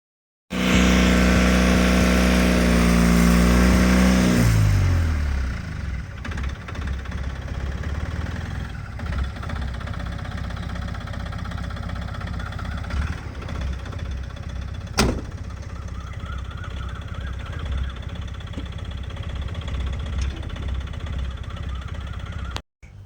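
A vehicle engine runs loudly at first, then settles into a steady, lower idle rumble that continues for a long stretch, with one brief click midway.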